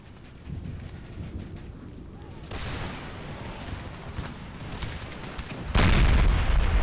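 Artillery fires in an Empire: Total War battle with the Empire 2 mod during a 13 Colonies campaign, heavy booming volleys rolling over a constant battlefield roar, and the loudest blast comes near the end.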